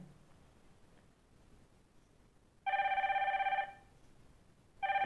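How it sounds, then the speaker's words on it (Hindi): A Syska Stellar smartwatch rings with an incoming call: a loud electronic ringtone starts abruptly, holds for about a second, stops, then begins again, against a quiet room background. "देख सकते हैं कॉल आ गया है एंड रिंग भी आप सुन सकते हैं किस तरीके से रिंग हो रहा है"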